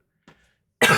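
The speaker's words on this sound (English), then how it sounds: "I wish this cough would go away" A single short cough with a throat-clearing edge, fairly faint and isolated, followed by a sudden loud broadband burst of a different sound.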